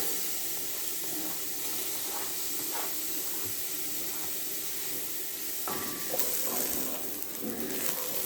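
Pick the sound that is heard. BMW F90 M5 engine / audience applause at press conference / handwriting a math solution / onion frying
onion frying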